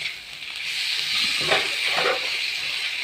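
Spices and peas fry in hot oil in a pan while cooking pea ghugni, making a steady soft hiss and sizzle with a few brief louder bursts as the mixture is stirred.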